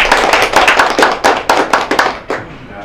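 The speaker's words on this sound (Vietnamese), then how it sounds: "Vỗ tay." Wedding guests clap at a ceremony: about a dozen loud, close, crisp claps in a quick, fairly regular rhythm, then a short pause and a final clap before it stops.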